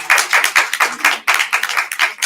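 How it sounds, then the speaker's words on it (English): A small audience at a genealogy talk on Freedmen ancestry and the Dawes Roll gives a round of applause for the speaker, a few nearby people clapping in distinct, uneven bursts. "If we can give Ron a big round of applause."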